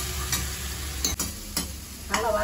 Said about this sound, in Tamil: தக்காளி வதக்கணும்.